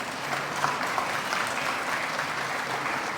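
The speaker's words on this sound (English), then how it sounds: "they deserve this morning a resounding round of applause." A large audience gives a sustained round of applause at a morning address by Guyana's president on the International Day for Persons with Disabilities, honouring parents, grandparents, relatives and social workers; the steady clapping fills the space without talk.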